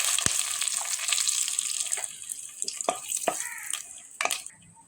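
Whole cumin, cinnamon, cloves, cardamom and two bay leaves crackle and sizzle in hot oil, a close, bright frying hiss broken by sharp spattering pops and a few utensil taps.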